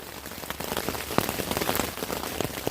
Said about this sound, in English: I'm lying in my tent because it's raining outside